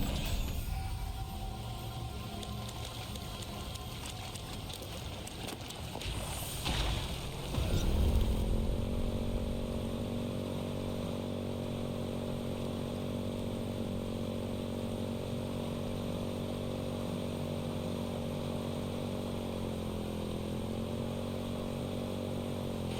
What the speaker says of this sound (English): I'd never imagined motorcycles to be such a joy to ride.